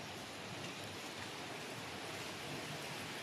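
Spring water at Bukal Falls in Laguna flows in a steady, close and continuous rush of broadband water noise, with no voices over it.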